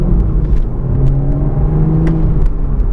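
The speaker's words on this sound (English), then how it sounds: "We've got oodles of power from this BMW straight six." A 2023 Toyota GR Supra 3.0 with its BMW straight-six and six-speed manual gives a steady, loud low engine drone and rumble, holding an even note with a slight swell in revs throughout.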